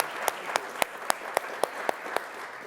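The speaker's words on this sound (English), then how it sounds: "let's get a round of applause for our wonderful panel" A panel audience applauds in a continuous crowd patter, with one clapper's sharp claps standing out in a steady, evenly spaced beat; no one speaks.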